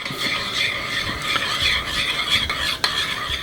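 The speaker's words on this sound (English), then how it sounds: "So we're going to lightly stir our lemon wasabi sauce." Lemon wasabi sauce is stirred lightly with a utensil, giving a steady soft scraping and swishing close by, with a few sharper clicks against the container and no talking.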